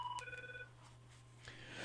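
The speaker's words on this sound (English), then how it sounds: "the phone's ringing already" A telephone rings during a live comedy radio show, a short electronic tonal ring with a couple of stepped pitches, faint and brief, followed by quiet studio noise.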